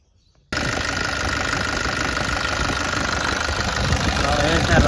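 A Nissan Urvan E25 ZD30 diesel engine starts abruptly after timing chain, gear and guide replacement, then runs at a loud, steady clattering idle close by, with a voice faintly audible beneath it.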